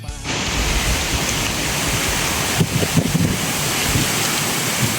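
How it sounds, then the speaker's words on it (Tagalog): Strong wind roars steadily during a typhoon with a broad, rushing hiss and a few gusty thumps buffeting the microphone. "Ang lakas ng hangin. Bagyo na"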